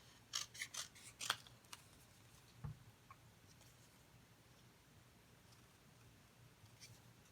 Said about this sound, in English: So I guess I will just cut all these off.